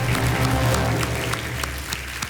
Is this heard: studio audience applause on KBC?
yes